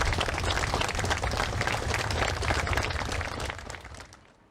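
Mourners applaud in a dense, sustained burst at a funeral farewell for a motorcycle delivery rider, the clapping loud and steady before tapering off at the end.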